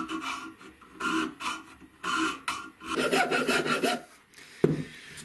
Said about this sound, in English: So I'll be filing from the metal to the wood, so I don't take the wood down further than the metal.